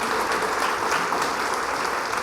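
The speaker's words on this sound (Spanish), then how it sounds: "Denle un aplauso a las mujeres." Congregation applauding the women during a Spanish-language Christian sermon, a thick, even wash of many hands clapping, loud and sustained throughout with no voice over it.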